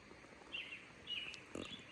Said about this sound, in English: This place is just alive with birds chirping.